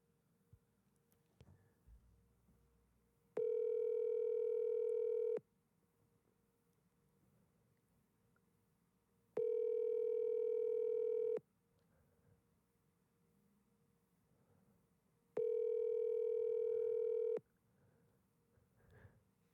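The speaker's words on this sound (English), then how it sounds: "Let's see if he answers his phone." Outgoing phone call rings while waiting for an answer: three long, even ringback tones about two seconds each, separated by roughly four-second gaps of near silence, clear and steady over faint background.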